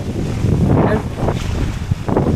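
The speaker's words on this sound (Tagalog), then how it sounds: "lakas ng hangin eh" Strong wind roars and buffets the microphone steadily at a beach with boats, with a low rushing rumble like open water beneath it.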